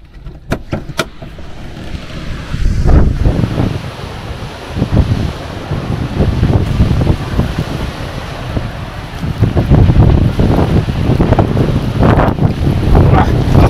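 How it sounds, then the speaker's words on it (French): Wind and rain batter the outside of a camper van on a rainy, foggy weekend, a loud, steady roar of gusts and wind buffeting with surf-like surges throughout. "Alors, la pluie, le brouillard, il y a tout en même temps là."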